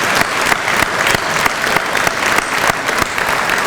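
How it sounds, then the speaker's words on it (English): Loud, continuous applause from a crowd at a chamber of commerce luncheon on the state of the ports, dense and sustained throughout with a few sharper individual claps standing out. "How about a round of applause for all 3 of the ports today?"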